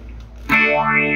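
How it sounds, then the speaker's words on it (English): Electric guitar played through phaser and chorus pedals at once, a swelling, thick modulated tone entering after a quiet moment and sustaining loudly with shimmering, swirling harmonics. "actually having both pedals engaged at the same time, the chorus actually kind of fattens up the phaser effect."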